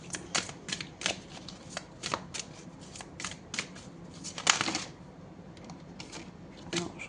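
Tarot cards shuffled by hand, heard up close as a series of sharp papery flicks and riffles in uneven bursts, with a brief louder flurry midway and a faint background hum.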